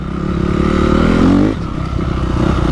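A motocross bike is ridden close by, its engine climbing in pitch under throttle for about a second and a half, then dropping to a lower, choppy running note with some clatter.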